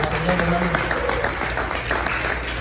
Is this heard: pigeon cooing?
no